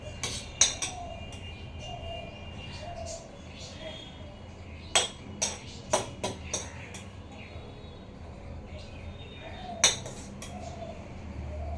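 A spoon scrapes and clinks against a small pot while rice is served, sharp metallic taps in loose clusters over a quiet kitchen background, with soft sounds like murmuring between.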